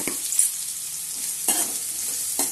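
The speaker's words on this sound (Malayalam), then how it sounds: "അപ്പം നമുക്ക് സവാള അരിഞ്ഞതിട്ട് കൊടുക്കാം." Chopped onion fries in hot oil in a kadai with a steady close sizzle, broken by three brief stirring scrapes.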